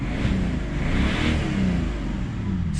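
A BMW 330d E46 Touring diesel engine revs hard at full throttle in neutral, a loud, sustained, close roar that holds steady for a few seconds with no voices over it.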